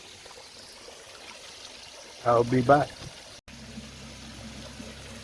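Water from a small waterfall in a garden pond trickles steadily in the background, a soft, constant wash of sound, while someone speaks briefly over it.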